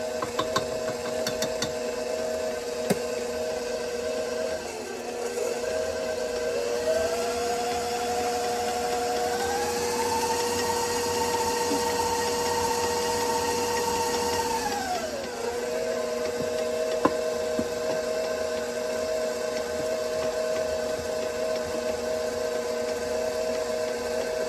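Electric mixer beating peanut butter cookie dough as flour is added, a steady close motor drone that dips briefly, then rises to a higher whine for several seconds before settling back.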